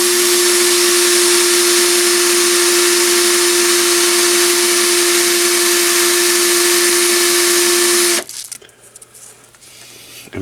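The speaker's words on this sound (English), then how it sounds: "I'll chuck it up about a 1/4 inch into a drill. Then I'll take some fine" A drill spins a small shaft, chucked about a quarter inch, while it is polished with fine emery paper: a loud, steady high whine with a strong hum runs for about eight seconds, then cuts off abruptly into quieter rustling.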